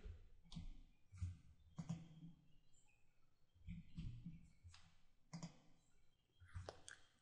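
Several sharp computer mouse clicks on an admin page, spaced irregularly over a few seconds, close but quiet with no speech over them.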